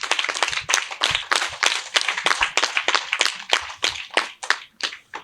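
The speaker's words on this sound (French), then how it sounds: "faire un tonnerre d'applaudissements à maman" An audience at a school-kit donation event in Avlo claps for an honored woman, a scattered, uneven patter of individual hands with distinct sharp claps rising and falling, fairly close.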